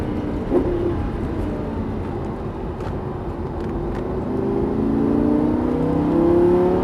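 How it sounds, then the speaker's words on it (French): A Lamborghini Gallardo with 530 hp accelerates on a race track, its engine note climbing in pitch as the revs build, loud and continuous with no talk over it. "Et t'accélères."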